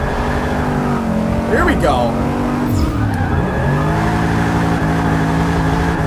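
A VL Commodore fitted with drag tires in Forza 6 revs loud and close, its engine pitch rising and falling as the tires squeal briefly in a slide, with someone talking over it.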